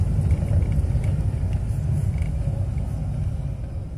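A car drives through São Paulo streets, heard from inside as a low, steady engine rumble and road noise that fades slightly over the few seconds.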